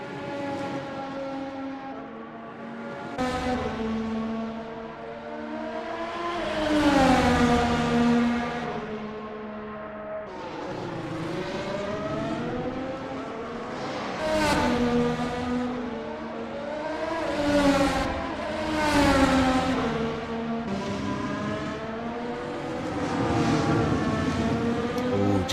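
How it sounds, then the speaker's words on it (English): Race cars roar past one after another on a circuit during a race, each engine rising and falling in pitch as it nears and fades. Moderately loud, overlapping passes continue throughout with no talking. "Jaden Neal going over the curbs a little aggressively there, trying to close down that gap as much as possible on his outlap"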